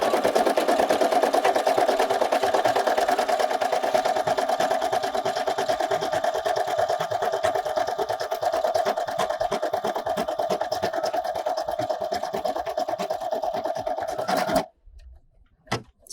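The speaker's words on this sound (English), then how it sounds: "If I hit the go button now, it will start doing the satin stitch." A Brother embroidery machine runs a satin stitch for an appliqué in one long, steady, close mechanical buzz that stops abruptly near the end.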